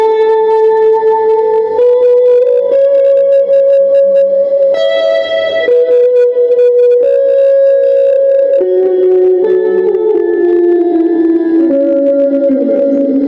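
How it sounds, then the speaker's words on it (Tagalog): Electric guitar run through distortion, Kings Delay and Cuvave Dig Reverb pedals, playing loud sustained notes that step through a slow melodic line, each tone ringing out with echoing trails. "Try natin siya ng tunog ng nitong distortion."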